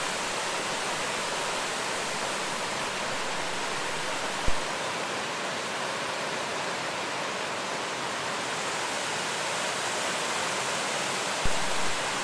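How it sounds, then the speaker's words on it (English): Waterfalls crash down beside a mountain creek flowing toward the Salmon River in the Rockies, a continuous, dense roar of falling water that stays close and even throughout, with no voices. "These waterfalls come crashing down right alongside the trail"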